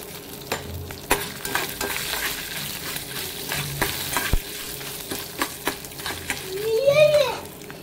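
Dried red chillies and tamarind frying in oil in a pan while being stirred, a close sizzle broken by spatula scrapes and taps, with a short voice heard near the end.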